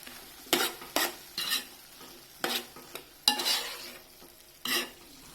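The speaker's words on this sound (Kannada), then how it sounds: "ಇದಕ್ಕೆ ಅರಿಶಿನ ಹಾಕಿ ಚೆನ್ನಾಗಿ ಮಿಕ್ಸ್ ಮಾಡಬೇಕು" Turmeric being stirred into cooked vegetables in a pan for toor dal fry, with a steady sizzle and six distinct scraping strokes of a spoon against the pan, close and clear, and no talking.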